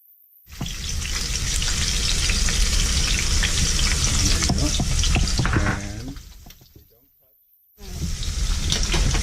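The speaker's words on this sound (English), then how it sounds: "the pan's already been warmed, so go ahead and put the shrimp in there first" Shrimp sear in a pre-warmed frying pan for Pad Thai, giving a loud, steady broadband sizzle that fades out near the end before a fresh burst of frying resumes.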